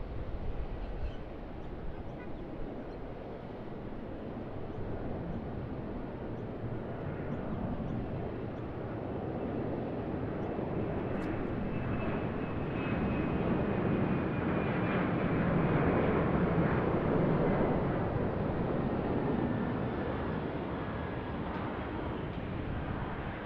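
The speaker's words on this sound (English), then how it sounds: "Looks like a Jetstar Airbus A320-200 coming in" A Jetstar Airbus A320-200 airliner approaches to land at Sydney Airport, its engines a low, distant roar that slowly swells louder toward the middle and then eases, with no voices over it.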